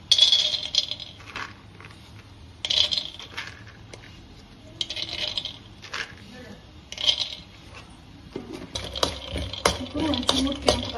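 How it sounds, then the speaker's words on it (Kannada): Peanuts, urad dal and chana dal dry-roast in a pan for amla chitranna, giving irregular rattling, clinking and scraping bursts as the pan is stirred. Jostling grows denser and louder toward the end. "ಫಸ್ಟು ಕಡಲೆ ಬೀಜ, ಉದ್ದಿನಬೇಳೆ, ಕಡಲೆಬೇಳೆನ ಹುರ್ಕೊಂಡ್ಬಿಡೋಣ"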